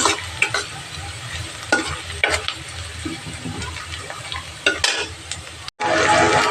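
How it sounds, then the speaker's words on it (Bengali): Ginger-garlic paste fries in a pan with halim mix spices, giving a steady sizzle punctuated by scraping stir strokes, then a brief silence followed by a louder burst of hissing frying. "ওই যে দেখেন আমি আদা রসুন বাটা দিচ্ছি"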